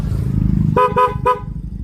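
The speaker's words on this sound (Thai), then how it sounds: "แล้วก็ติดตั้งแตรบอสแท้ด้วยนะครับ อีกหนึ่งคู่นะครับฟังเสียงนะครับ" Three short, loud horn toots from a pair of Bosch horns on a 2023 Honda Forza 350 scooter in quick succession, the third slightly apart, following a low engine idle; close and alone.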